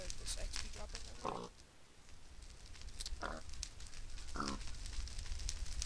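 Pigs in a Minecraft mob grinder give three short, snorting oinks over a steady background of crackling game noise, moderately loud and spaced a second or two apart.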